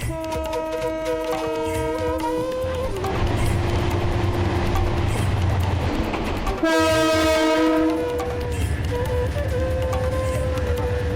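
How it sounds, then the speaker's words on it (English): A loud train horn blasts in sustained, harmonic tones, cutting out briefly and sounding again over the rumble and clatter of a train. "I've never felt a loud sound in my brain like I do with this train horn"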